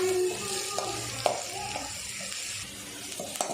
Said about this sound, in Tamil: அதில் சேர்த்துட்டு வெங்காயத்தை வதக்கிடுவோம்